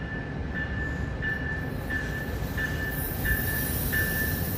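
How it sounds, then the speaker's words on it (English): Amtrak Capital Corridor train 527, led by Siemens Charger locomotive 2107, rolls into the Oakland Coliseum station with a steady rumble and regular wheel clicks and squeals over the rails. "Here comes Amtrak 527 on its way to San Jose Dearden Station. Here it comes."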